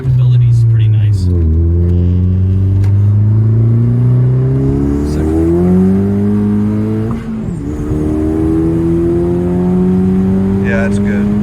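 Heard from inside the cabin, a 10th-generation Honda Civic Si fitted with a 27WON W1 turbo upgrade pulls hard through the gears. Its engine drone climbs steadily in pitch, drops briefly at two shifts, then climbs again, loud and close.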